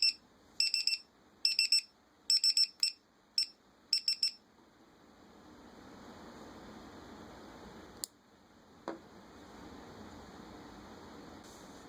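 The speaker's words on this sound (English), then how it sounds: "Power switch off detection alarm." A Dronekeeper mini2 gives its power-switch-off detection alarm: bursts of quick, piercing electronic beeps in small clusters for about four seconds, then a low steady hum with a couple of faint clicks.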